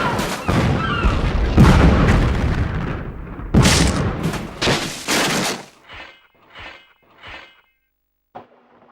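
A propane tank blows up inside the PS2 skating game Aggressive Inline, in a cannery level: a loud run of booming blasts with crashing debris, then several shorter fading bursts and one last small hit after a pause.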